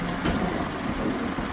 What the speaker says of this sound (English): Lorry number 2 of the day, and what a rig it is.